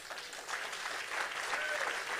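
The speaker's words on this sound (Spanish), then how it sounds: "Denle un aplauso al Señor" A church congregation claps in sustained applause, a dense, steady patter of many hands lasting throughout.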